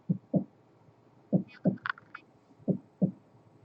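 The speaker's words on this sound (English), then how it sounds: "you can't help but just hear the sound of your heartbeat" A heartbeat sound effect of low, soft paired thumps repeats in a slow lub-dub rhythm, three pairs in all, with a faint higher rattle in between.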